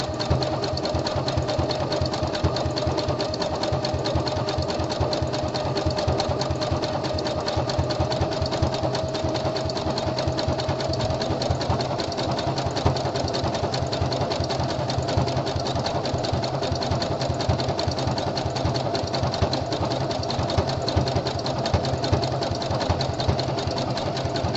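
A home sewing machine stitches a gusset seam on boxer briefs, running continuously at a steady, rapid rhythm of needle strokes with no pauses.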